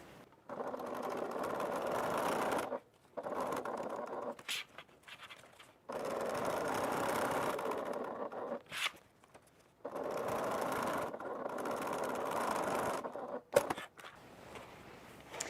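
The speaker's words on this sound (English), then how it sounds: "go ahead and stitch down, and turn, come across, and then stitch up the other side" Sewing machine stitching a pocket on a faux leather bag, three long close bursts of rapid needle chatter separated by short pauses for turning the work, with small clicks between runs.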